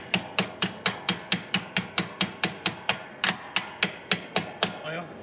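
A metal part on a John Deere L120 riding mower is struck with sharp, evenly spaced hammer taps, about eighteen close metallic knocks in a steady rhythm with a short pause partway through, no talking.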